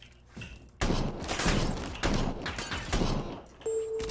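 Gunfire in a shooting video game breaks out in several bursts of heavy, rapid shots with thumping impacts, fairly loud and close, separated by brief lulls.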